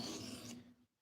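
A blade rasps across a 400 grit sharpening stone in one short close stroke that ends abruptly into quiet.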